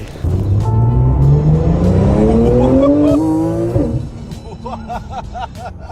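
Tuned-engine carbon-bodied Porsche 911 driving on a road, its loud engine climbing through rising revs close up before easing off, followed by quieter rolling noise with a brief background call.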